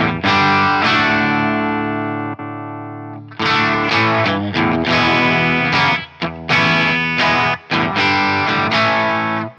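Electric guitar played through a Yamaha GW10 multi-effects unit on a medium-gain overdrive setting, loud sustained distorted chords with a brief drop-out near the start, then a string of repeated strummed chords cut by short gaps.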